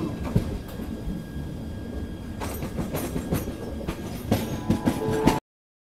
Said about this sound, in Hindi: ट्रेन है जी डबल डेकर इंडिया की है, देखते हैं।